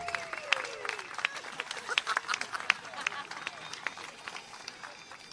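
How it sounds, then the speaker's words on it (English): An audience at an outdoor municipal band concert claps in a loose, scattered round of applause, mid-distance, with some voices murmuring among the clapping. "So give her a big round of applause."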